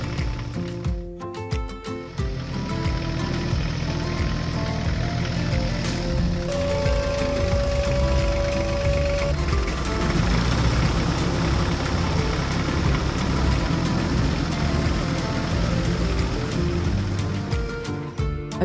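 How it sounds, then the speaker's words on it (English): A green tractor pulling a modern straw baler runs steadily at full power through rows of straw, its low engine drone and machinery rumble continuous and close throughout, with no voices. "Its powerful engine purred at full power, and the straw baler began to work with the precision of a Swiss watch."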